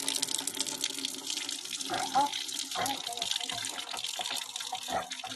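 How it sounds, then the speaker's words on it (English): Tap water runs into storage containers in a small village home in southeast China, a steady moderate splashing stream with occasional clunks of containers, while people talk in the background. "So there's water now, and the lady is wasting no time to store water in all the containers."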